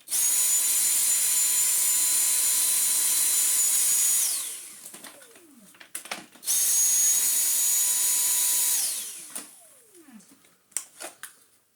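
A Numatic vacuum cleaner being run to clear a blockage whines loudly at full speed for about four seconds, winds down with clunks and rattles, then starts again and spins down a second time.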